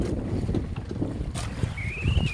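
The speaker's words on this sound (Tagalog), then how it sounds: "lumakas naman yung hanging abagat" Strong southwest monsoon wind gusting over a small fishing boat at anchor at sea, a steady roaring rush with low rumbling buffets, and a faint rising whistle near the end.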